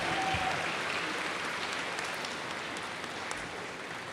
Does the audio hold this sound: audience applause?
yes